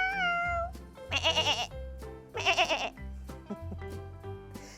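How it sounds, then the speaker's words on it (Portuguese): A sheep bleats twice in long wavering cries, loud and close, between short tonal electronic notes in a playful sequence. "Ovelha."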